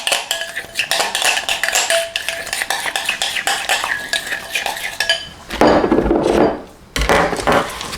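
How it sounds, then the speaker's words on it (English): Lemon juice and dressing whisked together in a bowl with a utensil, giving rapid, steady clinks and scrapes of metal against the dish, close and fairly loud, then shifting to coarser stirring and rubbing sounds near the end. "Just a tiny few drops of lemon juice, and I just mix all that together"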